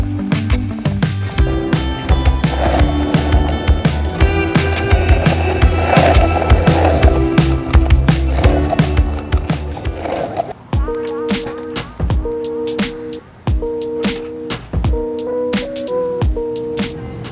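Skateboard wheels roll across pavement with a continuous gritty rumble, broken by clacks and bumps, with music playing alongside.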